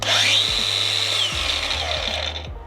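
A handheld DeWalt DCG 405 N cordless angle grinder spins up with a high whine and runs steadily, with a few soft knocks as it is handled, then starts fading.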